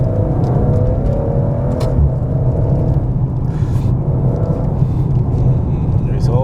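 A 2022 Maserati Ghibli Modena's engine rumbles steadily while the car is driven, a continuous low drone that stays constant throughout, with someone talking over it.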